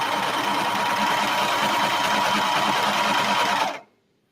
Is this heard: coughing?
no